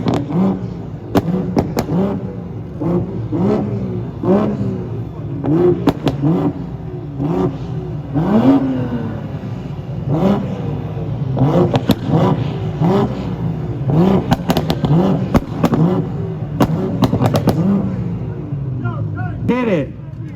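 A Toyota Supra at a two-step competition revs hard in rapid repeated bursts, its engine note climbing and dropping with sharp crackles, loud and close, while a crowd chatters and shouts in the background.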